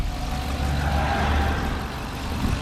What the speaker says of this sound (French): Je vais m'arrêter et on va écouter le bruit moteur.